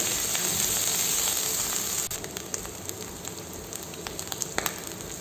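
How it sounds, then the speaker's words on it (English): Chilies sautéing in a pan for Mexican chilaquiles give a steady broadband sizzle that softens slightly partway through, with scattered small pops and crackles and no voices. "add chilies, saute it very well."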